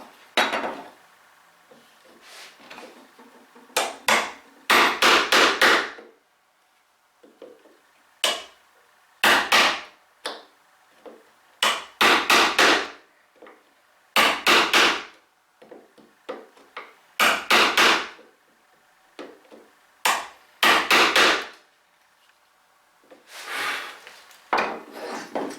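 Chisel struck with a mallet to chop twin mortises in wood, heard as repeated bursts of sharp knocking blows in irregular groups with quiet pauses between them, close and loud.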